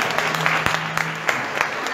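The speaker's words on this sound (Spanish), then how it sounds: "fuerte aplauso" Crowd applause at a queen's coronation for a southern Italy association, a steady patter of clapping with a few louder claps standing out, close and fairly even throughout.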